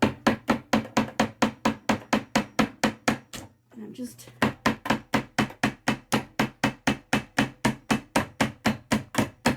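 Rapid, evenly spaced hammer taps driving a small nail through basket mesh into wood, dozens in a steady rhythm with one brief pause where a voice speaks a couple of words.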